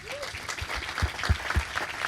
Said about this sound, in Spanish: Les voy a pedir un fuertísimo aplauso